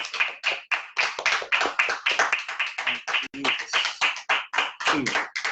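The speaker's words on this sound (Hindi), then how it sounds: "हम जोरदार ताली बजा के परमेश्वर का धन्यवाद" A church congregation claps loudly in thanksgiving during a worship service, a strong rhythmic run of hand claps with a few voices mixed in throughout.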